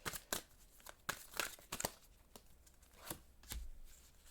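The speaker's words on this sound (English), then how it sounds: "Let me shuffle." Tarot cards being shuffled by hand in a series of quick, crisp riffling bursts with short pauses between, close and fairly quiet.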